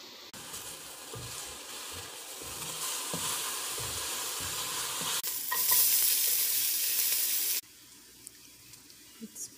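Bacon fries in its own rendered fat with onion and garlic for a bacon pasta, making a continuous crackling sizzle with spatula stirring scrapes. The sizzle swells louder for a moment, then stops abruptly, leaving a few soft clicks.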